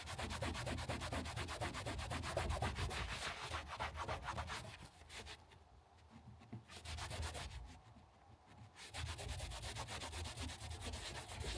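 Paint on a Tijuana Taxi being scrubbed off with turpentine, close, rapid rubbing strokes in a steady rhythm, broken by two short pauses.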